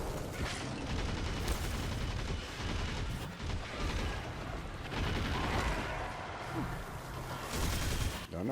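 Gunfire from a hard-recoiling weapon in Destiny 2 crackles in rapid, dense bursts with heavy booms and mechanical clatter, loud and close over a busy game soundscape.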